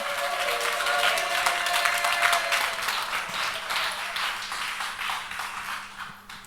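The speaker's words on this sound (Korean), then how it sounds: "하나님께 큰 영광의 박수와 함성으로 나가기 원합니다." Congregation at an evening church conference applauding and cheering in praise, a dense, loud wash of clapping and voices that holds steady before easing slightly toward the end.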